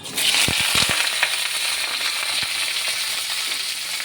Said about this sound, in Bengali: আলু ঢেঁড়সগুলো ভালো করে ভেজে নেবো